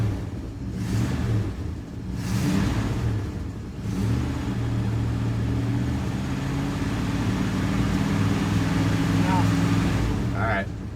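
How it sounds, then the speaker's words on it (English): A 1967 Plymouth Fury III V8, still smoking after its first start in 15 years, revs up close in repeated swells that rise and settle over a steady idle. "Data has given me permission to go ahead and give her a little rev here."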